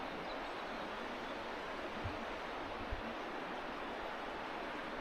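The Luda Kamchiya river rushes with a steady broadband hiss of flowing water, constant and moderately distant, with a couple of faint low knocks in the middle.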